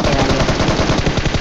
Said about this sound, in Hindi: लौंडों का आ रहा होता है यहाँ पे गन का फायर